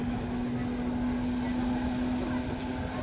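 An aerobatic airplane's engine drones steadily through an inverted roll at an airshow, a continuous, moderately loud hum with a sustained tone and no talk over it.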